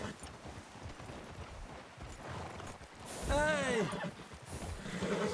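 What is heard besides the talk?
horse hooves and neighing in a video game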